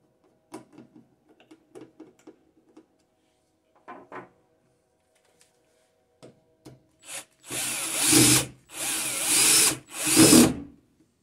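A power drill drives screws into an electrical outlet box. Scattered handling clicks and taps come first, then three loud, close whirring bursts of the drill in quick succession.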